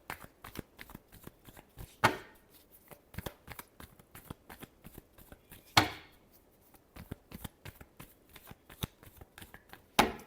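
A deck of tarot cards is shuffled by hand, with quick clusters of crisp riffling flicks and a few sharper slaps, close and quiet, without any voices.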